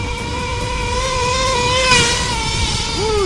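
A Traxxas T-Maxx 3.3 nitro RC truck runs on grass with a high, steady buzzing whine that climbs slowly in pitch as it speeds up, close and loud, with no talking.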